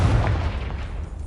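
A Confringo spell explosion in Hogwarts Legacy, a dense booming burst that opens loudly and rumbles away over roughly a second.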